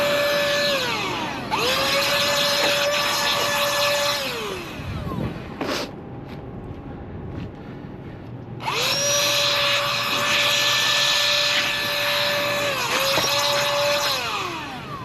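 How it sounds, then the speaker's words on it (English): A battery-powered handheld blower clears dust from a 2017 Chevy Cruze during a windshield replacement. It makes two long, loud, whining bursts, each spinning up and winding down, with a quieter pause between them. "So let's get our blower just so that we could get more of that dust off"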